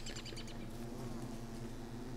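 A swarm of bees drones steadily in the video game Don't Starve, a close, continuous low buzz with a few thin higher flickers near the start and no talking.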